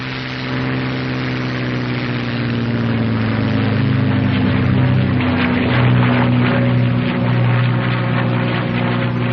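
North American P-51 Mustang engine during takeoff, a loud, continuous deep droning roar with a steady tonal hum that swells slightly as power builds.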